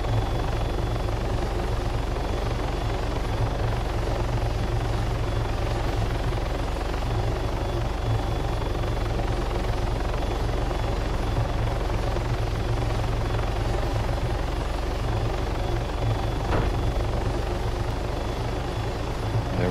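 A helicopter in the ArmA 3 game's helo trainer drones steadily as it comes in to land, a constant low rotor and engine roar at even loudness throughout, with one brief thump near the end and no voices.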